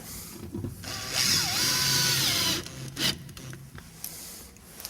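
A drill fastens screws down into a shower pan glued to the floor, giving a few seconds of whirring with a shifting pitch, followed by scattered clicks and handling knocks.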